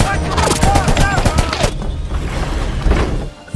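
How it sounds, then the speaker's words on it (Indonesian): Soldiers' gunfire in a ninja action film: dense bursts of rapid shots and booms mixed with shouting voices and film sound, loud and busy, easing off briefly before another burst near the end. "masih banyak tentara di luar dengan persenjataan canggih yang terus menembak"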